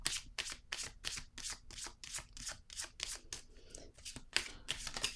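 Tarot cards being shuffled by hand, a steady run of crisp riffling flutters repeating roughly every half second, close and clear with no talking.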